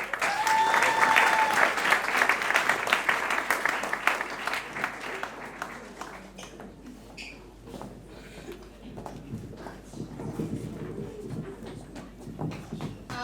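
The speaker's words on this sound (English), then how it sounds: "Let's give her a round of applause." Crowd applauding at a university student awards night, loud steady clapping that gradually thins and fades to scattered claps, with a few voices heard faintly near the end.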